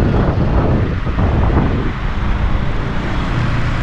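Road traffic flowing again after a signal on a village route, with a loud continuous wash of passing vehicles and wind buffeting a nearby microphone.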